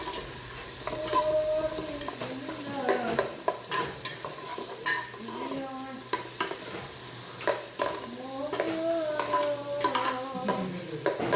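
Spices being stirred in a pan while cooking Madgut, a Saudi chicken and rice dish, with a spatula scraping and clinking against the metal in irregular strokes over a steady sizzle; close and fairly loud, no talk.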